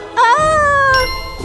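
A single close, clear cat meow, drawn out with a rising then slowly falling pitch and lasting about a second.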